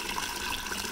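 A jug fills with water from a reverse osmosis system set up for CNC machines, a steady close rushing pour that holds even throughout with no talk.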